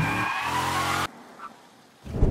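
Car in the video game Mafia 3 pulling up to park: a loud engine and tire noise for about a second, then it cuts off to quiet, followed by a faint rustle and a brief bump near the end.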